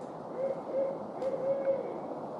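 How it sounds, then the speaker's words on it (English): An owl hoots at night in a quiet outdoor setting during a Bigfoot-hunting outing, giving a series of soft, evenly spaced hoots at moderate distance over a steady background hiss. "Do you hear that? That's an owl."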